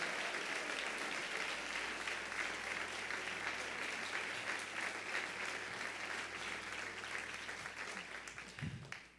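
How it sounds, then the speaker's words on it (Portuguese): A church congregation applauds during a family worship service, with steady, dense clapping from many hands that holds for several seconds and then tapers off, sounding somewhat distant and soft. "Se você vai aplaudir, faz barulho, dando glória."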